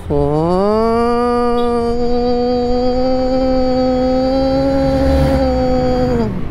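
A Yamaha Aerox V3 turbo scooter engine runs while riding, a loud close-up buzzing drone that rises quickly in pitch at the start, holds a steady high rev, then drops slightly at the end.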